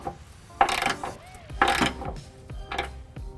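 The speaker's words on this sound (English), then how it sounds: "I've got a 3/4 inch socket. I'm just going to take all of the hardware that I installed by hand and snug it up" A ratchet with a 3/4 inch socket snugs up the trailer hitch bolts on a 2007 Chevrolet Impala. Three short, close bursts of clicking come with light metallic clatter in between.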